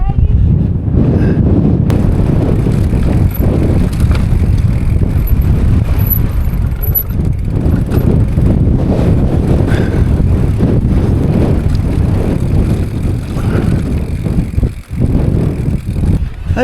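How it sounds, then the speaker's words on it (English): Strong, constant wind roars and buffets the microphone throughout, a loud low rumble with no break. "It's a shame about the wind, you can't hear yourself think"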